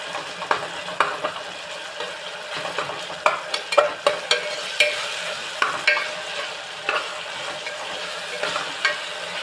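Karnataka-style idli sambar ingredients being stirred in a pan: repeated clattering scrapes and knocks of a spoon against the pan over a low sizzle, irregular and close, with no talking.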